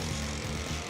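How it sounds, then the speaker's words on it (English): The propeller of a cartoon remote control plane buzzes steadily, a dense whirring drone that fills the whole brief moment without talk. "Trent, see that plane coming at you?"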